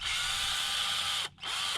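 Old Coleman PowerMate 18-volt cordless drill whirring steadily up close with a high motor whine, briefly cutting out for a split second before spinning up again.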